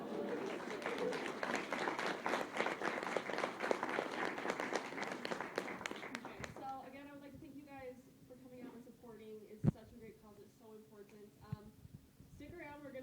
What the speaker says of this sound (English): I feel like that deserved another round of applause